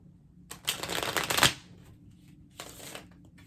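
Tarot cards are riffled and shuffled twice in quick bursts, close and crisp, with a short quiet pause between them.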